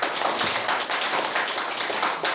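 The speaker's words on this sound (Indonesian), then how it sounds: "Tepuk tangan dulu dong." An audience claps in a dense, steady wash of applause for a couple of seconds, with no voices over it.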